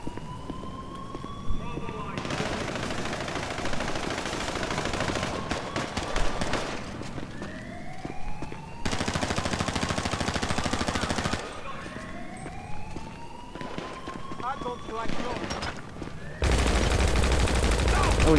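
Gunfire from a weapon in GTA Online, a game shootout with repeated loud bursts and shots mixed with game noise and sirens, while a player talks over much of it.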